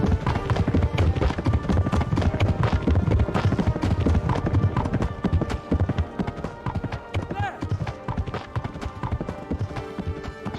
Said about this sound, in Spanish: Se están pasando un poco con el sonido de los caballos